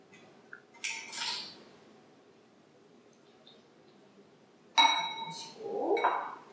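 A metal spoon clinks and scrapes against a bowl while soy sauce and sesame oil are added for a Korean dish, two short bursts of bright clinking separated by quiet.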